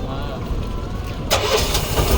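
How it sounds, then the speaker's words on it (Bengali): Outboard motor on a river boat on the Ganges at Benaras, struggling and then catching: a low rumble at first, then a louder, steadier engine roar with broadband noise as it starts, while people talk nearby. "এখন মোটরটা চালু করার জন্য, স্টার্ট করে দিয়েছে"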